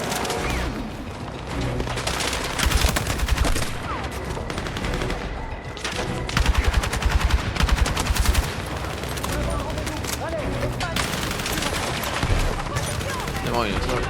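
Battlefield 6 campaign combat brings rapid automatic gunfire in repeated loud bursts, layered with dense battle effects and background game sound across the whole stretch.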